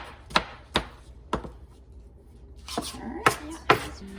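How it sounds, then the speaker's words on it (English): A knife chops onions on a cutting board in five or six sharp, separate thwacks spaced irregularly, with brief low talk in the background between the cuts. "now I've completed step one of cutting up our onions"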